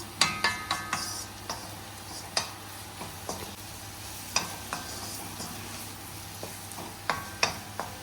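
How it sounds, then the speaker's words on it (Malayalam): Masala for chicken ghee roast sizzles in a pan while a spoon stirs it. Repeated sharp scraping clicks come in irregular bursts over a quiet, steady fry. "ഇത് നല്ല ഒന്ന് പച്ചമണം മാറി കിട്ടുന്നവരെ ഒന്ന് വഴറ്റി കൊടുക്കാം"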